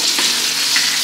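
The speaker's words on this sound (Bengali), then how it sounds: "আদা, টমেটো এবং জিরা মশলা, দিচ্ছি জিরা বাটা" Ginger, tomato and cumin paste frying in a pan, a loud, steady hiss of sizzling oil heard close up and continuously, with no talk.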